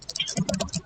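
Typing on a computer keyboard while entering text in a Hangul word processor, a quick run of light clicks close by with a person speaking over them.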